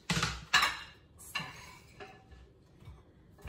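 A knife and cutting board handled on a kitchen counter while preparing courgette velouté, a few loud close knocks and clatters of wood and metal, then softer bumps trailing off, with no speech.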